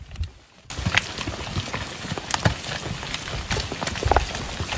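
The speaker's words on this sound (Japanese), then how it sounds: "石が次々と落下" Rocks tumbling and clattering onto a mountain road in central Taiwan's Nantou County, damaged by earthquakes and heavy rain, a dense run of irregular knocks and thuds after a brief quiet opening, with no speech.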